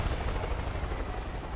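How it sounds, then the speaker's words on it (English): Helicopter in the Far Cry 5 video game, a steady loud rotor rumble with dense broadband noise throughout, with no speech over it. "Have we got a helicopter?"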